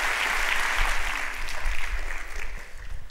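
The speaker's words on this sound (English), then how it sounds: "can we give John another huge round of applause?" Audience applause for John, a junior doctor who just gave a speech at a medical student convention, steady and dense throughout with no speech over it.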